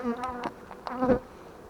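Honeybees buzz at a beehive in brief, close, rising and falling hums, heard alone with no talk over them.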